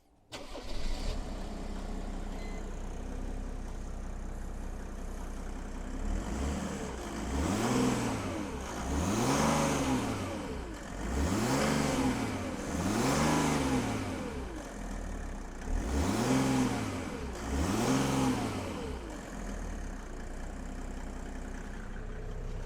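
A Land Rover engine cranks and catches, then idles and is revved several times in rising and falling surges, close by with no talking.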